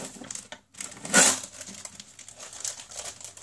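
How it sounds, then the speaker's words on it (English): Tape being cut and peeled off a cardboard Breyer model horse box, a crinkly crackling burst near the start followed by softer rustling and handling noises, close to the microphone. "Just cut all this tape off."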